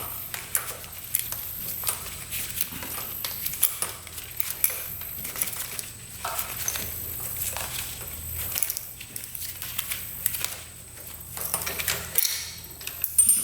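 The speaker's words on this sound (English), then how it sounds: "This whole carb screws off." Metal clinks, taps and scrapes from a carburetor being unscrewed from a quad with a faulty accelerator pump, close and steady under a faint background hum.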